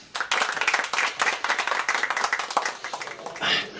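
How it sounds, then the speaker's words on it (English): Gathered listeners clap for a young girl, Joy, as she walks up to read, a steady burst of close handclapping that thins out toward the end. "Let's clap for her as she comes."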